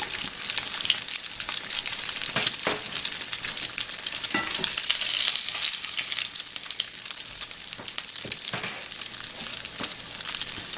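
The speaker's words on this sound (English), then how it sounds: "I'm going to keep frying here." Homemade pierogi frying in a pan make a steady, close sizzle with scattered sharper crackles and pops throughout, and no one speaks.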